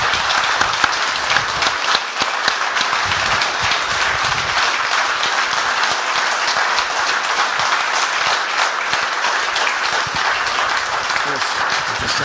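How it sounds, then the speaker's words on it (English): A room full of people applauds at an evening talk with a motorsport team boss, a loud, steady, continuous roar of clapping that keeps an even level throughout. "I think that definitely deserves another round of applause"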